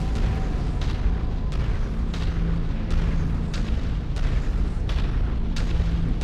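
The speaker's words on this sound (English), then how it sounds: "that's to be expected on a demo mission when I'm chain firing the crap out of them" SRM missiles chain fire in a video game demolition mission, a steady stream of repeated booming launches at a regular rhythm over a constant loud rumble.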